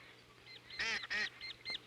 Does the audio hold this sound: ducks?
yes